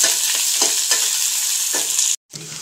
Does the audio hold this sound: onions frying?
yes